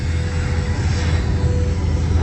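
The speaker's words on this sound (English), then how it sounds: "And Dan once again is slow rolling his airplane" An airplane engine at an air show at Debert: a steady, loud droning roar that holds for the whole stretch without pause, heard from a distance in open air.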